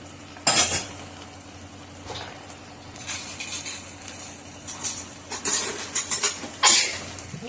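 A spoon scrapes and clinks against a pan as crab pieces are turned and stirred through masala, with irregular clatters over a soft, steady sizzle.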